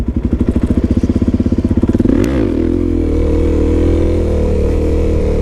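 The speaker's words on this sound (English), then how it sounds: "So you can see this going pretty dang slow in a first gear wheelie here." Close and loud, a motorcycle engine pulses in a rapid rhythmic chug at low speed during a first gear wheelie, then swells into a steady, higher revving drone that holds to the end.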